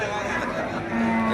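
Cattle at a busy cattle market in Melapalayam lowing steadily, a sustained low moo over a dense, noisy crowd background, close and fairly loud for about a second and a half, with people chattering around.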